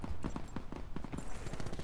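Rapid bursts of gunfire from Call of Duty Black Ops 4 Blackout, a fusillade of sharp, closely spaced shots filling the whole stretch at steady loudness with no talk.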